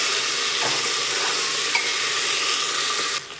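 Potato slices and raw peanuts sautéing in hot oil for masale rice give a steady, close sizzle with soft scraping stirs throughout, fading near the end.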